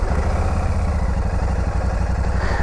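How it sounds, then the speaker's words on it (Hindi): A Royal Enfield Shotgun 650 twin-cylinder motorcycle idles close by, a steady, throbbing low pulse with a light mechanical clatter and no talk. "जो इंजन की साउंड है, आपको पहले सुना देता हूँ, कुछ इस तरह की आ रही है"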